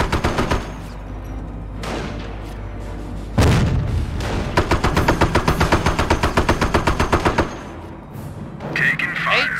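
Gunfire in the World War II strategy game Company of Heroes, Normandy invasion at Montebourg: loud booms and sustained rapid machine-gun bursts in long rhythmic volleys, with voices calling out over the battle.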